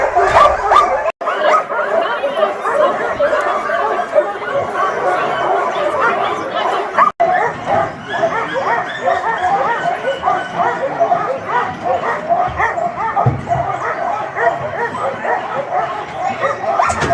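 Iditarod sled dogs on a summer dog sled tour bark, yip and whimper in a loud, continuous chorus close by, with brief human chatter mixed in.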